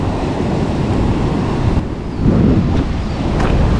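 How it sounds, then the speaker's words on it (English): Strong wind blowing straight onshore at the coast while shore jigging, a loud steady roar buffeting the microphone with gusts swelling midway, and surf faintly underneath. "Which way is the wind going?"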